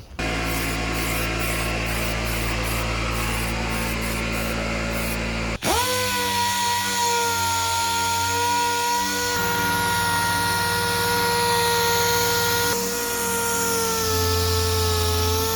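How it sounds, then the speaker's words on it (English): Continuous loud whine of a power tool grinding and sanding, steady and close, shifting pitch partway through as the motor speed changes. "taking it down to bare metal, sanding it all the way from 120 to 320"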